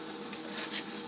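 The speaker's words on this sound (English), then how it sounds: "I have no problem frying that right where I fried my tilapia" Tender young bok choy sizzles in a pan where tilapia was just fried, a steady close-up hiss of stir frying with faint scraping.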